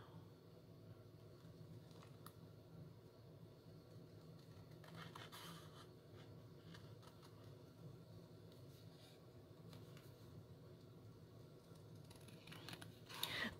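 Scissors cut through paper for a mini file folder folio, with faint, quiet snipping and rustling against a low background hum.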